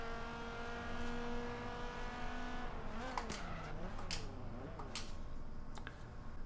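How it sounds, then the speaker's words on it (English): Engine revving in Forza Horizon 3 with rising and falling gear-change tones and sharp throttle blips on downshifts, a steady loud car engine note throughout with several quick spikes mid-clip. "you just blip the throttle every time you gear shift down"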